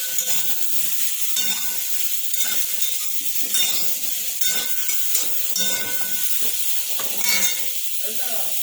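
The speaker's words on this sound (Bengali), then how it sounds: "এখানে যে বেগুন আর আলুটা ভাজা হচ্ছে" Eggplant and potato pieces fry in hot oil for a Bengali dish, a steady loud sizzle and hiss with bubbling crackles and occasional stirring scrapes, no talk.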